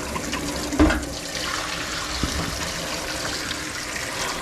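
Water rushes and gurgles while rinsing through a Briggs water pump, a loud continuous close-up wash with a brief clunk early on and no talk.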